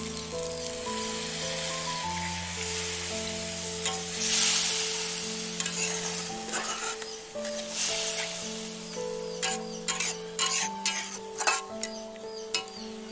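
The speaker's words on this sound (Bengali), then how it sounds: "টমেটো গুলো গলে গেছে। এবার আমি দিয়ে দেবো অল্প জল।" A little water poured onto softened, melted tomatoes in a pan for a village-style cauliflower curry with snails, giving a steady hissing sizzle with scattered crackles and stirring, while soft tonal music plays underneath.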